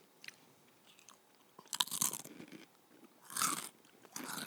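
Chili lime tortilla chips crunched close up, a few separate loud crisp bites and chews spaced across a few seconds.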